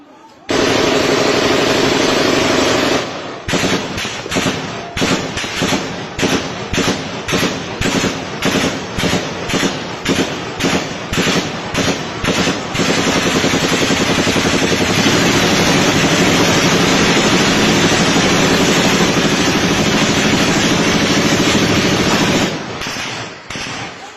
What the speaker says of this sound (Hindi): आपको बाकायदा गोली चलने की आवाज़ सुनाई देगी